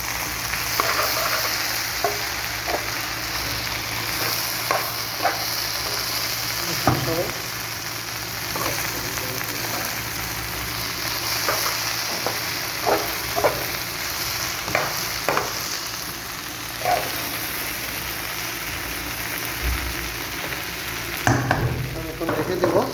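Potatoes and egg frying in chicken oil in a pan, a continuous close sizzle with repeated scraping stirs of a spatula spaced through the sizzle and a louder clatter near the end.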